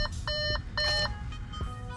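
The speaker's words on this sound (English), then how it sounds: "Let's get this beeping stopped" A 2014 Audi A4's car system beeps during an aftermarket backup camera install, sounding a quick series of clear, evenly repeating electronic tones up close.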